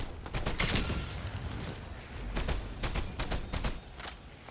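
Gunfire crackles through a Fortnite match, several loud shots in irregular bursts over a continuous noisy game background, some close and some a little further off.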